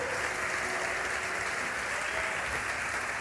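A church congregation applauds, dense even clapping from a large crowd sustained at steady loudness across the few seconds, with no other sounds standing out.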